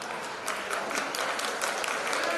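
An audience applauds at a retirement felicitation function at a music and dance college, a dense, steady round of clapping heard at moderate distance throughout.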